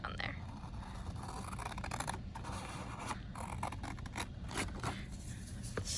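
Scissors snip through a kpop photocard with quiet, close, repeated cuts and paper scraping in a slow, irregular rhythm, faint and intimate.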